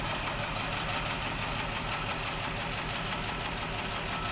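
A 1955 Pontiac Chieftain sedan engine runs steadily nearby, an even, rough mechanical rumble with a faint knocking texture and no talk over it.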